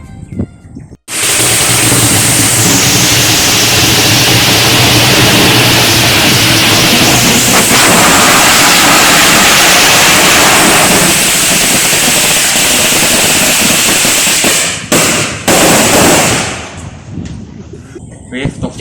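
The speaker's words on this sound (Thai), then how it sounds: "ถ้ากล้องกลัวประทัดมากผมเลยต้องมาถ่ายเองจริงๆผมก็อยากดูเขาจุดประทัดเหมือนกันนะ" Firecrackers set off by hand burst into a long, loud, dense crackling barrage that fades near the end.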